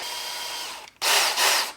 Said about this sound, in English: I'm going to use this power drill with the bottom of a cup attachment here